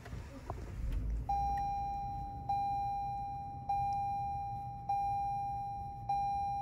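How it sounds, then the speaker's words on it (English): A 2021 Lexus LS500 being started, with a steady tonal chime repeating about every second over a low, rumbling background after a brief rustle at the start. "Let's go ahead and start the vehicle."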